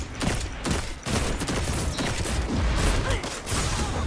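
Rapid bursts of video-game gunfire from a long-range scout rifle being hip-fired, loud and dense throughout with brief gaps around reloads, close and continuous.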